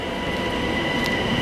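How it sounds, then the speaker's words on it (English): Long Island Rail Road train pulling into a station, a steady loud rumble of rail cars with a faint high squeal of wheels, continuous and close for the whole moment. "is this train going to stop for us"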